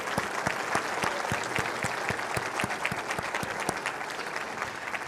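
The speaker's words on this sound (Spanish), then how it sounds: "Un aplauso para ellos." A church congregation applauds for fathers on Father's Day, with steady, dense clapping that holds at an even level throughout, with no voices heard over it.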